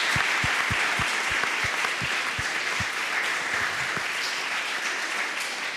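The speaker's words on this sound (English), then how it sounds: "So I would ask you a special applause for her, because sometimes we don't recognize those things." Symposium audience applause, strong and sustained, with a dense wash of clapping and distinct hand claps popping out near the front, continuing steadily for nearly six seconds.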